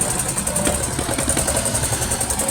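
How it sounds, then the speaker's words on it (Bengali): A launch boat's engine passes close by on a Sundarbans waterway, a steady, throbbing drone with a fast rhythmic pulse that holds at an even loudness throughout, with no voices. "আমরা দেখতেছি আরেকটা লঞ্চ সামনে দিয়ে আসতেছে"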